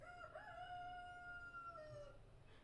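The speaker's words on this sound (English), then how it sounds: "That's my rooster." A rooster crows once, a drawn-out call heard faintly at a distance over quiet background noise.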